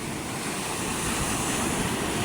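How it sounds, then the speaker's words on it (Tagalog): Big sea waves surge and crash in a steady, loud roar near a fishing boat on a rough, darkening sea, with wind buffeting throughout and no voices. "Malaki ng alon na yun"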